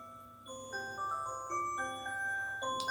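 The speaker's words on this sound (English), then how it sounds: "that's my alarm because I had to wake up and get ready for my office" A morning alarm plays a steady repeating melodic tone pattern, clear and moderately loud, with no voices over it.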